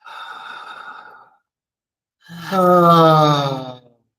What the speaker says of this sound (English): let's all just take one big deep breath through the mouth and exhale through the mouth